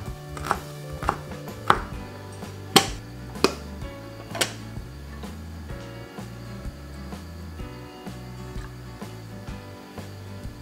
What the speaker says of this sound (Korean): 쫑쫑 썰어주시면 돼요